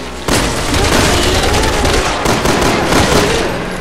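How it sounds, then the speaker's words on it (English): Machine gun fire in Resident Evil 6 rattles in a loud, sustained automatic burst with heavy booming impacts, continuing for several seconds with a brief dip partway through. "Wait, she's got a machine gun now?"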